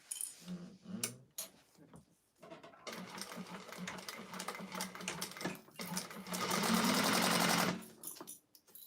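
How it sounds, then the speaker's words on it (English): A sewing machine bastes a seam with an eighth-inch allowance on a clutch wallet, running in short bursts at first and then in one longer steady run before stopping. "I'm going to just go ahead and baste this with 1/8 of an inch seam allowance across here"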